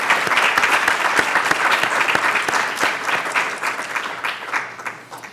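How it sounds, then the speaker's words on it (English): Audience at a museum conference gives a full round of applause, dense and steady clapping from many hands that tapers off toward the end. "let's give them a round of applause for all of their hard work and dedication"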